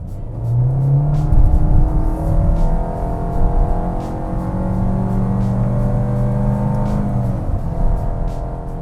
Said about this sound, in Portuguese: vou dar umas aceleradas variadas aqui para vocês ouvirem a rotação do motor